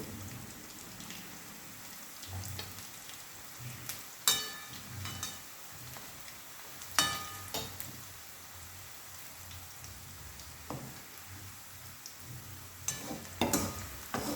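Onions frying in a pan for chicken curry, a steady soft crackling sizzle with occasional louder pops and stirring scrapes, fairly quiet and without speech.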